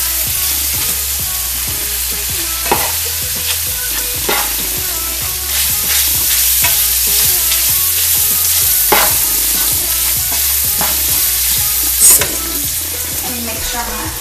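Country-style biscuit gravy bubbles and sizzles in a pan while being stirred, with a loud continuous frying hiss, a low pulsing hum, and occasional scraping taps of the utensil; no speech.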